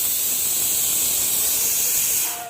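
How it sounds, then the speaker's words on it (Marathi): Steady, loud steam hiss from a pressure cooker on the stove while dinner cooks at home, continuous throughout and fading only at the very end. "आता रात्रीचा स्वयंपाक करण्यासाठी इकडे कुकर लावलाय"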